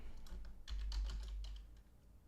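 Quick bursts of computer keyboard typing, close and fairly quiet, with a low hum underneath.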